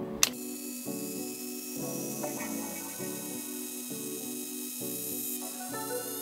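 Two electric foam car-wash sprayers, one from AliExpress and one from Komeri, run at the same time with a steady, continuous spray hiss and a pulsing motor hum. The sound is close and carries on alone, with no talk.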